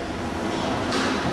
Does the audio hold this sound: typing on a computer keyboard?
no